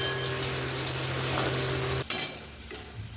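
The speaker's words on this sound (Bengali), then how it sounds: "আমি এই তেলেই আমি আলুগুলো একটু ভেজে নেব, একটু লবণ হলুদ দিয়ে।" Potatoes frying in oil with salt and turmeric, a close, steady sizzle that is briefly broken by a sharp clatter of stirring before the frying sound resumes.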